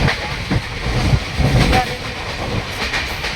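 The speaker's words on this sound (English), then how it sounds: "in this time we are in a tram" A tram runs on rails, heard from inside as a steady rumbling roar with rhythmic clacks and knocks from the wheels, continuous and fairly loud.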